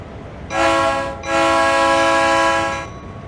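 A GP38 locomotive in Train Sim World 5 sounds its horn on a drive-by, one short blast followed by a longer sustained blast, loud and close over a low rumble.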